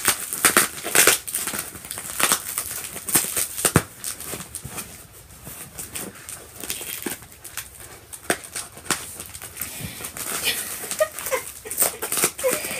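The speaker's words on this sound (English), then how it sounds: "Scissors not agreeing with my fingers." Scissors snip and crinkle through bubble-wrap packaging as a small parcel is opened. Sharp irregular cuts and rustling sound close up, with brief voices in between.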